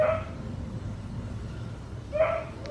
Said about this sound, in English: And that is my dog